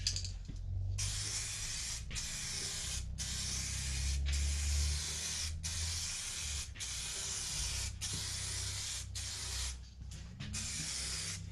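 Spray gun laying a heavy wet paint coat on a Road Warrior fairing for a 2018 Harley-Davidson Sport Glide FLSB: repeated hissing bursts, each about a second long with brief gaps between passes, close, over a low background hum.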